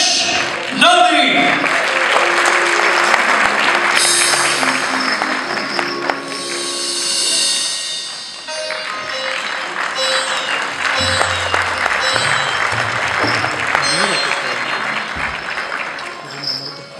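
An audience applauds a singer being introduced on stage. The clapping is loud and fairly sustained and rises and falls across the stretch, with voices and some stage noise mixed in.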